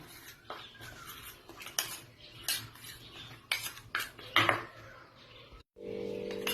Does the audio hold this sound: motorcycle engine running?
no